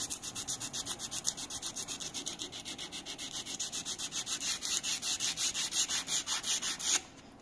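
Sandpaper is worked back and forth over a bangeh wood knife handle in quick, even strokes, a close, rhythmic scratching that keeps a steady pace and then stops abruptly.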